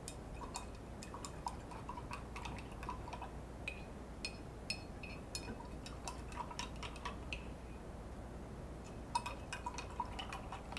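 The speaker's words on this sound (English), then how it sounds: "Now I'm gonna rinse my brush." A paintbrush rinsed in a water cup while painting fall mums gives a steady run of light ticks, taps and drips against the container, close and quiet, with no talking.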